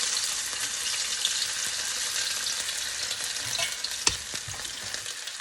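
Vegetables for fried rice, including chopped bell pepper, green chilli and garlic, sizzle and crackle steadily in a hot pan as they are stir-fried, with a few sharp clinks of a utensil against the pan and no voices.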